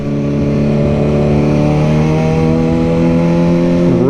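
A Mercedes drives past close by, its engine a loud, steady tonal drone that shifts in pitch near the end as it goes by.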